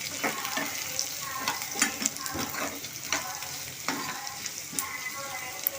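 Onions and green chillies sizzle and fry in a pan with occasional stirring scrapes, a steady close crackle at moderate volume.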